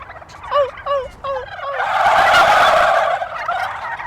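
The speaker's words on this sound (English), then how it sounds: "the male turkeys will hear it and they'll probably get turned on and gobble back" Male turkeys gobble loudly nearby, a few warbling calls followed by a long rolling chorus of overlapping gobbles.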